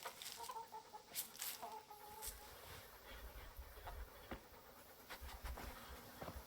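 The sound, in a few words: chickens clucking while being fed, video game Kingdom Come Deliverance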